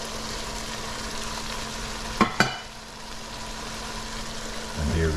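Dried shrimp hit a hot pan while cooking callaloo (poi bhaji), giving a steady close sizzle throughout, broken by two quick sharp clatters midway and a brief rustle near the end.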